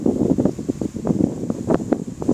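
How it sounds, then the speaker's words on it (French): Strong wind gusts ahead of a violent thunderstorm in Carpentras roar as a continuous broadband rush with rustling fluctuations, loud and close to the microphone, with no talking. "Rafale de vent aussi qui se lève."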